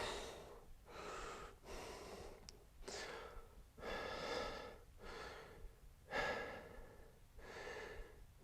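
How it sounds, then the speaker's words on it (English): Heavy rhythmic breathing during a senior strength workout, loud close inhales and exhales in a steady cycle of about eight breaths, with no talking. "Breathing."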